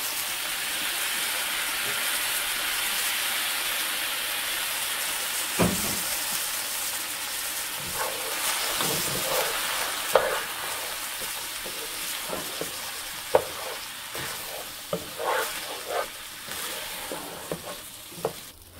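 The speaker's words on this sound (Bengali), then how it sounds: "চালটা প্রায় ভাজা হয়ে গেল।" Washed rice fries for pulao in a pot, a steady hissing sizzle that runs throughout, with irregular scraping and clattering stirs joining in partway and growing busier toward the end, close by.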